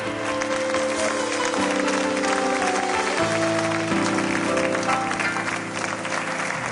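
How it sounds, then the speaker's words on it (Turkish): Studio audience applauding on a Turkish matchmaking TV show, steady dense clapping throughout, with sustained music tones running underneath. "karşılayacak arkadaşlarımız alkışlarla uğurluyoruz"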